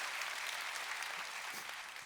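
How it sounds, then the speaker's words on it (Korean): Audience applause at a Seoul National University public natural science lecture, honoring the lecturing professor; a dense, steady wash of many hands clapping throughout, fairly distant and even, with no talking. "안광석 교수님께 다시 한번 큰 박수"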